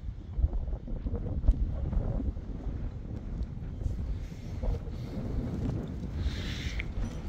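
Gusty outdoor wind buffets a microphone on Tenerife, heavy low rumbling blasts that swell and ease in uneven waves, strongest early on and lighter toward the end.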